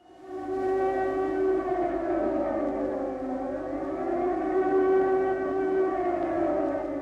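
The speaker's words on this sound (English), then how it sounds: "The air raid sirens started sounding in 1940." An air raid siren wails loudly and steadily, its tone swelling and sagging in long slow waves.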